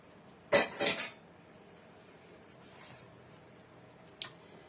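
A short clatter of dishes and utensils knocking together, followed by quiet and a faint, brief clink near the end.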